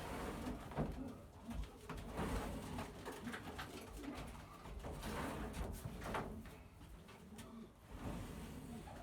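Pigeons coo repeatedly in soft, low, rolling phrases close by, mixed with light rustling and shuffling, with no talking.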